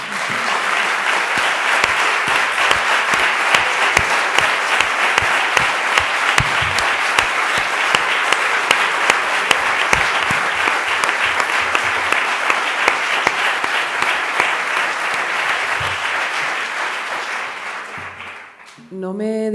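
Long, loud applause from an audience at a women creators' event, dense sustained clapping with sharp individual claps standing out, fading only near the end.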